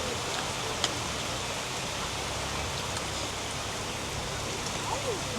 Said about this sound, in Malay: Luar dah hujan.